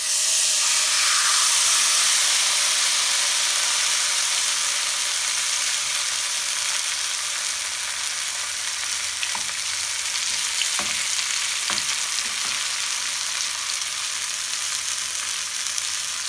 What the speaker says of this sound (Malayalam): മീൻ അങ്ങനെ ഫ്രൈ ആയിക്കൊണ്ടിരിക്കുകയാണ്